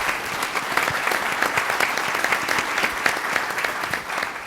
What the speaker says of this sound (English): one big round of applause for Ann